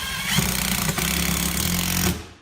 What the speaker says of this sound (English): And that's how we put in the screws.